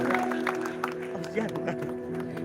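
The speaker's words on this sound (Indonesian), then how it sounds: "berikan tepuk tangan yang meriah" Church revival congregation in Dolok Sanggul applauding together, a brisk patter of many hands under a sustained musical tone, moderately loud and steady for the whole moment.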